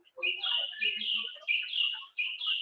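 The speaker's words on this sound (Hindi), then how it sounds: "पंछियों की अलग अलग मधुर संगीत।" Birds singing in a dense forest, with a close, clear run of bright, warbling phrases and chirps that carry on continuously with only brief pauses.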